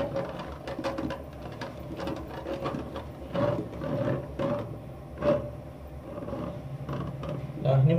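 Drain cleaning spiral being turned inside a toilet drain, repeated creaking, scraping mechanical turns with occasional louder knocks, close up with faint background noise.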